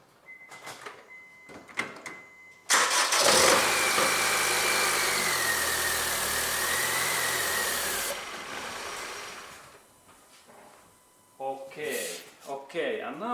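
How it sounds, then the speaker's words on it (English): A Honda car engine cranks and starts, then runs at a loud, steady idle for several seconds near the microphone before quieting, with clicks and handling noises before and after. "now I go to start my car, that we can hear that how this engine really starts"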